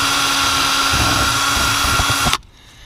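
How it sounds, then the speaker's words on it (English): A power drill runs screws into an RV furnace vent cover, whining steadily for a couple of seconds at close range before cutting off abruptly into quiet. "I'll run the screws in these holes right here"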